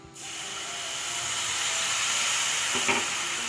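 Water hits a hot pan of sugar and erupts into a steady steaming hiss that swells and holds, close by, with a brief clink near the end.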